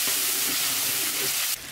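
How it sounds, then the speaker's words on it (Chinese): Ginger, garlic and pickled vegetables stir-fry in hot oil in a wok, a loud, close, continuous hiss that suddenly thins near the end. "油烧热，把姜蒜泡菜哈丢下去，给它炒熟一点来"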